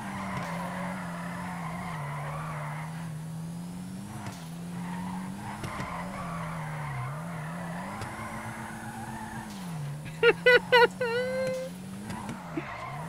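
A car in the video game GTA hums along at steady engine pitch with a brief burst of tire squeal near the end, heard faintly under a talking voice.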